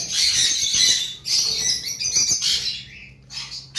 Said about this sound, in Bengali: আমাদের কাছে নতুন কালেকশনের কিছু পাখি এসেছে, যেগুলা জাপানিজ বাজরিগার রেড আই